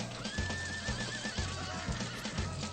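Horses whinny in high wavering calls over a busy battle backdrop of thumping hooves and clatter in a retro Zelda video game, the neighs drawn out and fairly prominent across the scene.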